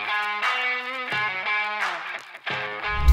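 A Yamaha P-145 digital piano plays quick trilled figures in several bursts, with bright sustained tones, rapid alternating notes and a low note at the end, close and clear with no talking.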